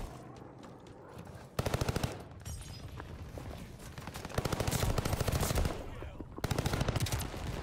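Sten submachine gun in Call of Duty Vanguard firing loud rapid bursts, with short stuttering volleys broken by pauses and a steady background of game ambience.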